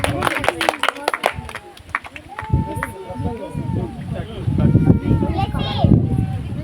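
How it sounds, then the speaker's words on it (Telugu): Congregation at a thanksgiving prayer service breaking into clapping, a burst of many hands growing into sustained applause with voices and cheering mixed in. "క్లాప్స్ కొడదాం ఒకసారి"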